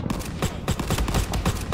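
Rapid bursts of gunfire in a World War 2 online battle game, several sharp shots in quick succession, loud and dense with no voices.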